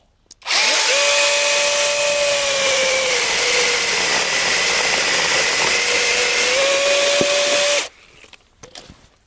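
A ProCraft cordless battery chainsaw cuts through a dry fallen log, a loud steady motor whine held for about seven seconds, then it stops and a few quiet knocks follow.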